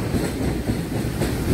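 Kanchankanya Express (13149 Up) running across the Farakka bridge, a steady close rumble of rail carriages with rhythmic clickety-clack of wheels continuing throughout without pause.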